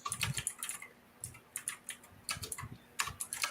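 Keyboard typing in bursts of quick clicking keystrokes, with short pauses between runs, fairly close and moderately loud, with no talk over it.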